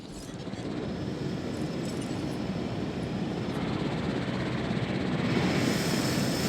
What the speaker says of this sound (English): Let me guess. The helicopter is also going to be blocked.